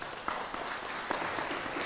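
Audience members applaud at a town hall meeting on contamination and cancer, producing a short burst of scattered, moderately loud clapping with a few sharper individual claps.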